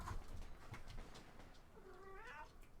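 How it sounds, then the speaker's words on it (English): A cat meows faintly in the background of a Company of Heroes 2 match commentary, a short drawn-out mew near the end over room noise and scattered clicks. "Damn cat."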